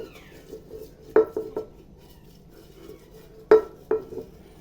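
An aluminium baking tray is handled while oil is added for an orange cake, giving a few sharp metallic clanks and scrapes in two short bursts over a quiet background.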